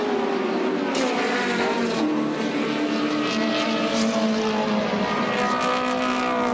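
A Schnitzer BMW M3 touring car races at Bathurst, its engine holding a steady, loud drone that rises slightly in pitch as it passes along the track, with no voices over it.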